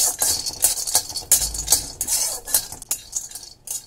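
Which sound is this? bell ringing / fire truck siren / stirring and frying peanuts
stirring and frying peanuts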